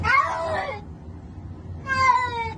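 A cat gives two clear, close meows, one at the start and one near the end, separated by a quiet pause.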